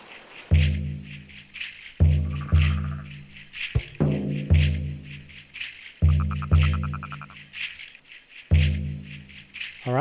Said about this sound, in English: And frogs and crickets.